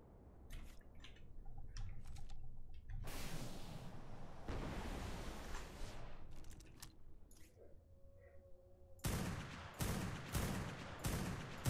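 ARK: Genesis gunfire comes as repeated bursts of rapid shots, some short isolated cracks and several sustained volleys, separated by brief quiet gaps with faint game ambience.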